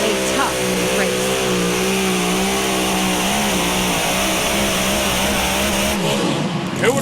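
A big engine in a super modified two-wheel drive pulling truck roars loud and sustained at a truck pull in Henry, Illinois. A crowd or announcer can be heard faintly beneath the roar, which drops away sharply near the end.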